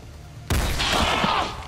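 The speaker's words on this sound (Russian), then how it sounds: "Поэтому сначала Пирс делает выстрел." A single loud gunshot rings out in the turn-based strategy game XCOM Long War of the Chosen during a train ambush mission, an abrupt blast followed by a brief crackling decay, with no talk.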